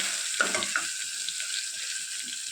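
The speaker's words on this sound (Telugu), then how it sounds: "ఈ అల్లం వెల్లుల్లి పేస్ట్ బాగా వేయించుకోవాలండి" Ginger garlic paste frying in oil for mint rice, a soft, even sizzle with a couple of faint stirring knocks early on, steady and moderately quiet.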